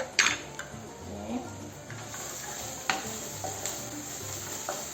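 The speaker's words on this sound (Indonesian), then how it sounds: "Oke, kita tumis dulu bawangnya, bawang bombay dan bawang putih." Onion and garlic sautéing in a pan give a steady, moderate sizzle, with occasional utensil scrapes and clinks against the pan at intervals.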